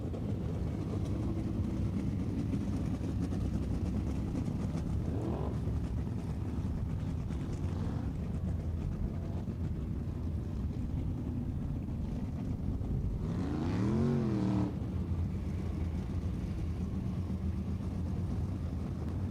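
Race cars circle the Tulsa Speedway track at a Friday night event, a steady engine roar carrying from a distance the whole time, swelling briefly as cars pass.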